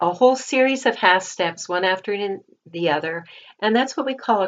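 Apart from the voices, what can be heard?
None of the usual background noises is heard.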